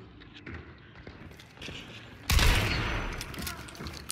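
A single heavy shotgun blast in Hunt: Showdown, a loud booming shot after a quiet stretch that trails off into a lingering echo.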